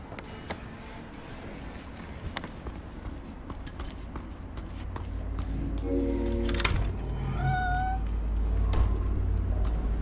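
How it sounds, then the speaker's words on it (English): Video game door opening with a creaky sound effect resembling a cat's meow, a few wavering tonal cries rising and falling near the end over a rustling background, no speech. "That door opening sounded like a cat meowing. That was a cool sound effect."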